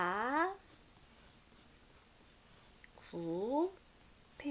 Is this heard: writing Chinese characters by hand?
yes